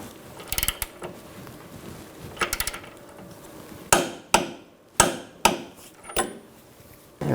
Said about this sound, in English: Now we're going to torque this bolt to 74 foot-pounds.